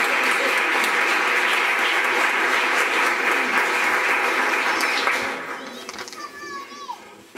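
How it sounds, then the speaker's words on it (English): A school audience claps steadily for several seconds during teacher introductions, then the applause fades out, leaving faint chatter and a few children's voices. "let's give them a nice round of applause"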